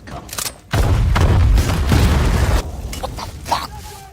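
Bomb blasts go off in a forest in an action film scene: a heavy, booming explosion rolls out and lingers, with smaller bursts and debris crackling afterward.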